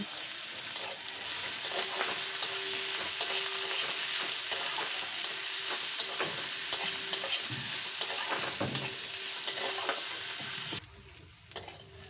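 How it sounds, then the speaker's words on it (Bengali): Garlic and chopped onion fry in hot oil, a continuous close sizzle with repeated stirring scrapes of a spatula, cutting off abruptly near the end. "পেঁয়াজটাকেও খুব ভালো করে ভেজে নেব"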